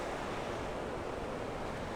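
Ocean surf rolling onto a North Carolina beach along the Carolina coast, a steady broadband wash of breaking waves with light wind noise on the microphone, continuous and fairly close, no voices.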